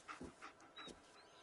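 A dog in the video game Fallout 4 panting in quick rhythmic breaths, faint and close, over a soft background hiss.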